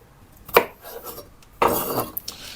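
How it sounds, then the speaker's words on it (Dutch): A knife cuts peeled potatoes into cubes on a kitchen board. Two distinct chopping knocks, each followed by a brief scrape, stand out against a quiet background. "Zo, we snijden de aardappel in blokjes."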